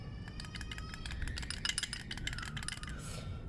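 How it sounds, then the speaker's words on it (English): Front right brake caliper on a Suzuki Bandit motorcycle, rattling as a quick, irregular series of light metallic clicks and taps over a low background rumble, faint and close. "the front right brake was rattling"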